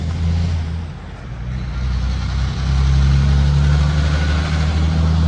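A fire truck's Detroit Diesel Series 60 engine runs steadily under the open hood, a loud, close, deep diesel rumble with strong low harmonics that swells slightly partway through.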